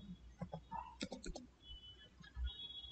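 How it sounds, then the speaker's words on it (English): Soft mouse clicks and light keyboard typing come from a computer on a desk. The taps are quiet, scattered and close-up, with no talking. "So click on start and type Windows Media Player."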